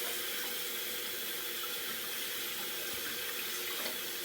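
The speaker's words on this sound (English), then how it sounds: "just going to give my hands a rinse" Hands rinsed under a running kitchen tap mid-recipe while making a chilled cream dessert; a steady broadband rush of water splashing into the sink fills the whole stretch without pause, close and even, with no talk.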